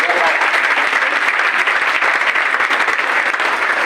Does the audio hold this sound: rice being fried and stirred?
no